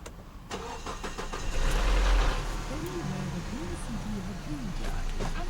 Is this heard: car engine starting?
yes